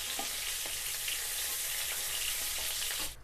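Pointed gourd (parwal) pieces frying in hot oil for an aloo parwal curry, a steady dense sizzle with a few faint stirring clicks, close and continuous until it drops off near the end.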